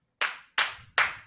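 Three sharp, distinct claps in a quick, evenly spaced sequence, close and isolated against near silence.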